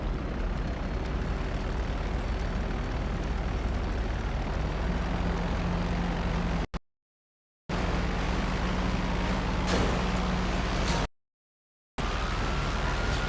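Airplane engine in GTA Online during free-roam dogfighting, a steady broadband drone running loud and continuous, cut by two brief silent gaps.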